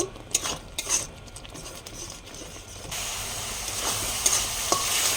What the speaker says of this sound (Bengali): দিয়ে নাড়ব